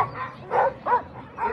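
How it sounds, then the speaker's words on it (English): Alaskan Husky sled dogs at the Fur Rondy race on 4th Avenue in Anchorage give several excited, yelping barks and whines close by, in short bursts. "Beautiful, strong Alaskan Huskies here"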